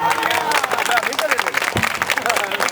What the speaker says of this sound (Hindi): जोरदार तालियों से इस नज़म का स्वागत कर दिया करें आप